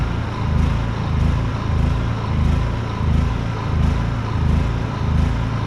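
A backup generator engine running out of fuel and running rich surges loudly and rhythmically, its droning pulse rising and falling about once or twice a second as the throttle hunts to keep it going.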